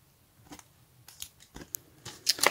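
Paper being peeled and crinkled away from a sparkly diamond painting card, a series of short crisp rustles and snips at close range that grow busier toward the end.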